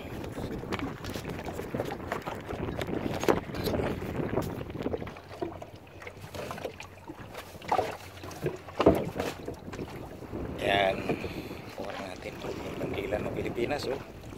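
A new boat engine running during a sea trial at sea, a low steady hum partly buried under wind buffeting the microphone, with someone speaking throughout.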